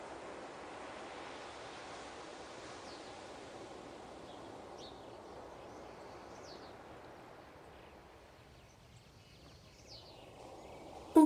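Ocean waves under a blue sky off Johannesburg, South Africa, heard as a soft, continuous wash of surf with faint bird calls, easing slightly toward the end.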